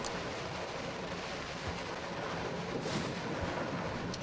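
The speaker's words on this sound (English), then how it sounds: "Storm's getting bad." A video game storm pours out a dense, steady hiss of rain with a low rumbling undertone and a brief brighter surge near the middle, constant and fairly loud throughout, with no talking.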